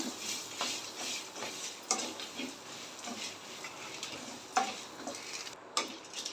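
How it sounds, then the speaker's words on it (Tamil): Grated coconut sautéed in a pan, a faint continuous sizzle with soft, irregular ticks and scrapes of a spoon, quiet and close. "தேங்காய் சேர்த்து அதையும் நல்லா வதக்கி விடுங்க"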